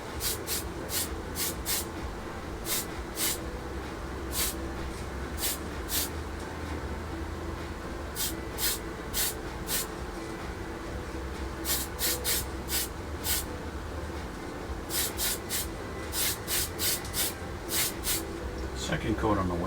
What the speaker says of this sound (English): So let's just give that a little bit of spray.